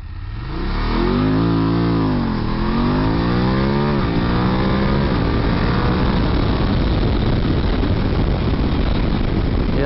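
BMW F850GS motorcycle accelerating hard from a standstill to 100 km/h, engine revving up through rising gear pulls with a shift dip, then a loud, sustained roar with steady wind rush.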